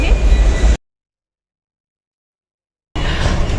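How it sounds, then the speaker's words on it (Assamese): Delhi metro train at a station, its rumbling rail noise and wheel clatter audible briefly at the start and again at the end, with a long stretch of total silence in between. "ফাইনেলি দৌৰি দৌৰি আহি মেট্ৰ' ষ্টেচন পালোহি"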